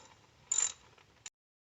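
A socket wrench with an 8mm socket ratchets once in a short, quiet burst, then gives a single faint click, loosening the coil pack bolts on a 2016 Mazda CX-3 engine.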